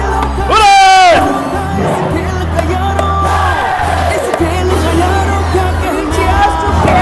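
At an ophthalmology society event, an audience breaks into a loud shouted cheer near the start, followed by lingering crowd noise and chatter with voices throughout.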